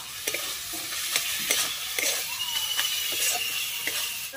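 Chicken mince stir-frying in a pan with soy sauce, a steady close sizzle broken by repeated scraping strokes of a spatula at a loose, regular rhythm.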